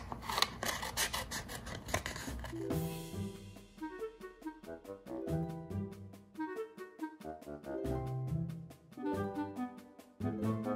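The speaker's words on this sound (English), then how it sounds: "So let me get my paper snips" Paper snips fussy-cutting a stamped cat shape out of paper: a few seconds of close, rasping snips, then music with softer, intermittent cutting beneath it.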